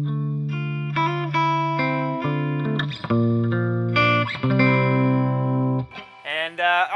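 A clean electric guitar played through a Fender Twin amp into a Marshall cabinet, with a little reverb, strums a sequence of ringing chords and single notes, sustained and close.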